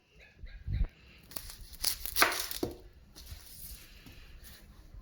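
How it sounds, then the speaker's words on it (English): A knife cuts both ends off an onion, giving a handful of crisp, crunchy slicing bursts close by, with quiet gaps between them and no talk. "So I cut both parts off."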